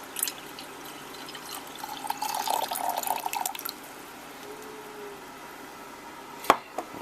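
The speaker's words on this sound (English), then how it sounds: "then I just pour the water into the base of the Moka pot" Water pours briefly into the base of a Bialetti Moka pot, a soft trickling fill lasting about a second and a half in a quiet kitchen, followed by a sharp clink of metal.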